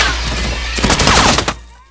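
A burst of gunfire from drug dealers in an action thriller, several rapid cracks over a roaring background that fades out at the end, loud and close.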